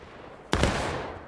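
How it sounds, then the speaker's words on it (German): A single sharp gunshot crack from a video game battle, loud and sudden, followed by a short fading echo tail. "Der will Schüsse rauslocken."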